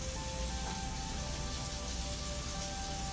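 Seasoned shrimp, salted and peppered, frying in a hot pan, giving a steady, even sizzle and crackle throughout with no talking.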